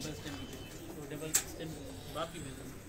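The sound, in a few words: pigeon cooing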